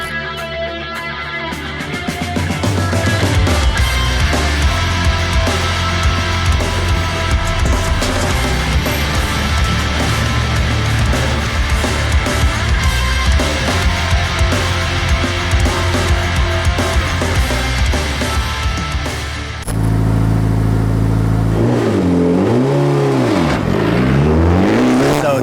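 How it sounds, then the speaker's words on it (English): A loud Mitsubishi Evo IX open class rally car engine roars and revs continuously at close range, pitch rising and falling as it accelerates, with a brief shift in tone near the end. "Mitsubishi Evo IX, open class rally car"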